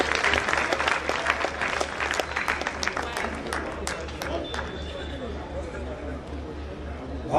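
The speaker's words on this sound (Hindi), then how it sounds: "बहुत शानदार गीत के लिए एक बार जानदार तालियां बजा दें आप" An audience applauds after a song at a women's college event in Gurugram, steady dense clapping that holds for several seconds and slowly eases, with a voice speaking over the crowd throughout.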